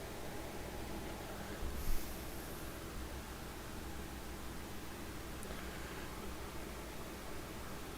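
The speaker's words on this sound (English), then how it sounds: "my air conditioner's on, so I'm sorry about the background noise." Constant broadband whooshing hum of an air conditioner filling the room, steady throughout with a small bump of rustling near the start.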